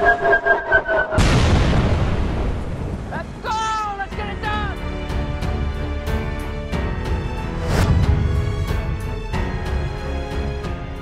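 In a brick-built stop-motion animation, a sudden loud boom bursts out, followed by rumbling explosions and sharp gunfire cracks mixed with music and swooping tones, like action sound effects.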